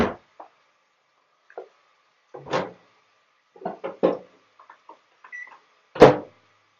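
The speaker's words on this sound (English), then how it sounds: "Into the microwave for 11 minutes." A rice bowl with lid set into a microwave oven: scattered close clunks and knocks, a door thud, a couple of short beeps, then a sharp final click as the door shuts.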